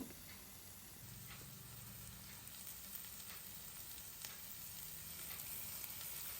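Dried fish frying in oil with chopped onion, green chilli and garlic, a steady close sizzle with faint crackles and occasional stirring scrapes throughout.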